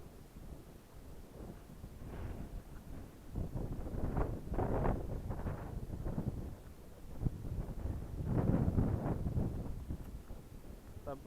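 Mountain wind gusts at Valle Justina Mountain Resort in Mobo, Masbate, buffet the microphone, rumbling low and surging in waves that grow stronger midway and again near the end. No voices are heard.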